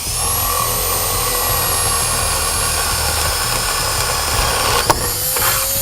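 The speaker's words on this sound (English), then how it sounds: "you want to drill your hole into the middle of your wall frame," A power drill whines continuously at close range, grinding steadily through the middle of a wooden wall stud, with a sharp knock near the end.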